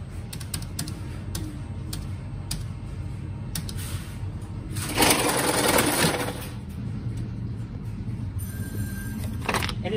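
Telephone call completing through a 5XB crossbar switch, with a rapid mechanical chatter of relays and clicks running steadily and a louder burst of buzzing ring midway, close and fairly loud.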